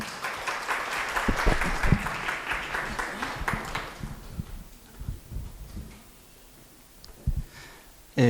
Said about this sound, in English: Can we clap for Black Excellence?